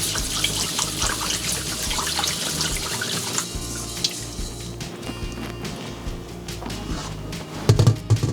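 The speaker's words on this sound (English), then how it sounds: "Pour the rice into a bowl and place under running water." Rice for Japanese sushi-style cooking is rinsed in a bowl under a running kitchen tap. Water pours steadily and close throughout, with light splashing and a few small knocks near the end.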